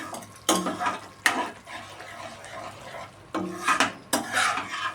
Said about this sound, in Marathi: एकदा चांगले परतून घ्यावे.